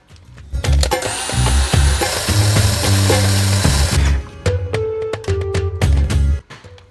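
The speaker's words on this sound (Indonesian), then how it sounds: "Kita blender sampai smooth." An electric blender whirs through room-temperature butter batter for sticky date pudding, a loud, close motor drone with clattering and knocking bursts as the speed shifts, stopping abruptly near the end.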